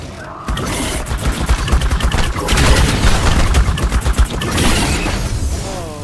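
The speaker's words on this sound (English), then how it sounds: "Oh, you guys have turrets? So do I." Turrets in ARK: Survival Evolved Extinction fire in rapid, loud bursts of gunfire, close and nearly continuous for several seconds with only brief pauses, and no voices over it.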